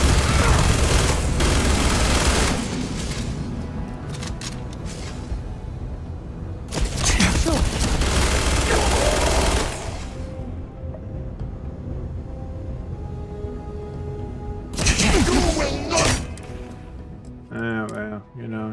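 Bursts of rapid gunfire in the space game Starfield, several loud volleys and booming blasts separated by quieter stretches, with a person talking over parts of it.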